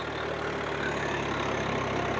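A Swaraj 855 tractor engine runs steadily at 1600 RPM, a loud, continuous diesel drone without pause.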